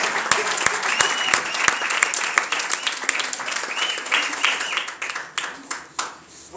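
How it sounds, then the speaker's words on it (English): An audience gives a round of applause during a motivational talk on self-esteem, dense loud clapping from many hands that holds steady and then tapers off toward the end. "maybe a round of applause just before I continue."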